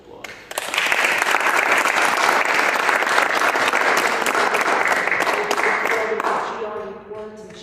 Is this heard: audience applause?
yes